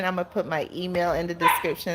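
A dog barks and yips in short bursts close by, overlapping someone talking continuously.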